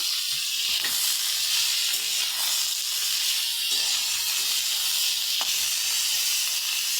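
Onion and green chilli sizzle in hot oil, a steady close hiss that runs without a break, with a few faint clicks underneath.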